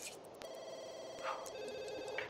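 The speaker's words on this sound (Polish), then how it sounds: "Dawaj, dawaj, odbierz, zobaczymy, kto to dzwoni." A landline telephone rings in The Sims 2 life-simulation game, repeated bell-like trills sounding at a moderate level over quiet in-game ambience.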